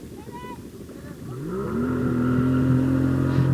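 Motorboat engine pulling a water skier, a steady drone that rises in pitch and swells louder as the throttle opens, then holds a sustained near hum over wind and water noise.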